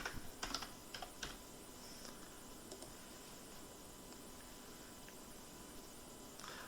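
Fingers type a document name on a computer keyboard while setting up a spreadsheet: a quick cluster of close, crisp key clicks at the start, then a few sparse taps over a faint steady room hum.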